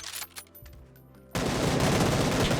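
Gunfire in the PUBG video game: a few sharp scattered shots, then a sudden dense, continuous burst of automatic fire that stays loud and close to the end, with no talk.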